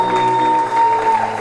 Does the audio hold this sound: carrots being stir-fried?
no